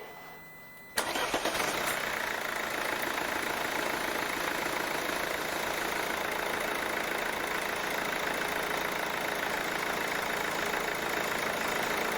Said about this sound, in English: now we're gonna run the engine